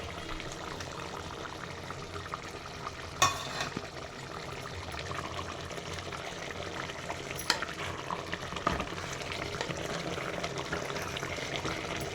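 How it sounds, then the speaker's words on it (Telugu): Andhra-style mutton curry bubbling and frying in a pot, with a continuous sizzle over twelve seconds and a couple of sharp scraping knocks from stirring. "ఇప్పుడు ఒకసారి కలుపుతాం."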